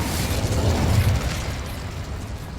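Fire and blast spell effects in the Hogwarts Legacy video game erupt in a loud, dense rumbling burst that swells and then slowly fades.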